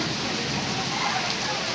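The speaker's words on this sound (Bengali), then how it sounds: "এই দেখুন অনেক বৃষ্টি হচ্ছে" Heavy rain pours down in a thick, steady roar during a windy evening storm on a street, loud and continuous without any break.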